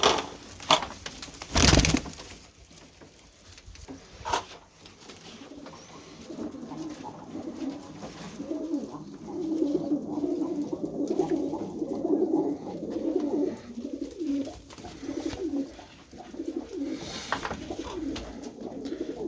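Low, throaty pigeon cooing rolls on and off nearby inside a coop, with a few sharp knocks and rustles near the start.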